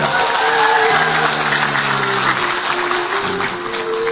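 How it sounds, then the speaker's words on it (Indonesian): Loud, sustained audience applause fills the hall at a Gus Miftah preaching event, dense and close throughout, with faint tonal music running beneath it. "Tepuk tangan untuk Polres Sleman."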